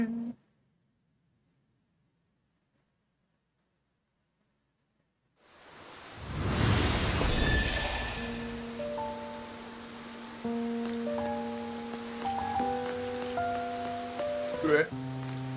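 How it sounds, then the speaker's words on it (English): Heavy rain bursts in after near silence, a dense hiss of falling water, with soft chiming musical tones layered over it as it continues. "It's raining."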